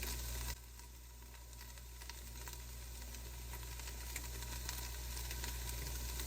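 Garlic and onions sizzling in a pan, a steady close frying hiss that holds evenly throughout with no talking.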